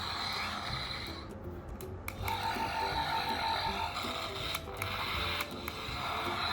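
A Bandai GUTS Eagle toy spaceship from Ultraman Dyna fires electronic zapping shots over a buzzing mechanical hum, with a steady beeping tone partway through.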